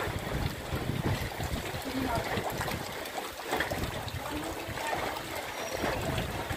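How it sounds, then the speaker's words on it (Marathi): Cold wind blows across the Brahmagiri hilltop near Nashik, a constant close roar buffeting the microphone with no clear pauses throughout. "सुटलेला थंडगार वारा"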